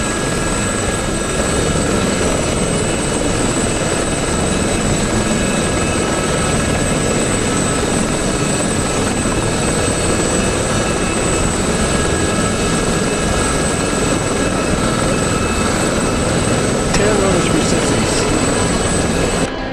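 A Gazelle helicopter in flight, its rotor and engine making a loud, dense, unbroken roar that holds steady from start to finish.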